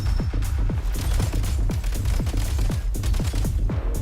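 Rapid bursts of video game gunfire, a dense run of sharp repeated shots with a booming low thump under each one, loud and continuous without pause.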